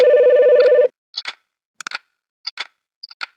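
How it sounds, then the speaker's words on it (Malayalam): A phone rings in the Roblox horror game The Morgue Shift: one short electronic ringing tone, followed by several light, separate clicks against silence. "ഫോൺ അടിക്കുന്നത്?"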